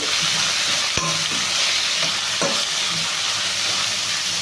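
Rice ingredients with mint and onion fry loudly in a pan with a dense, continuous sizzle, joined by a few sharp scrapes and knocks of a stirring spoon.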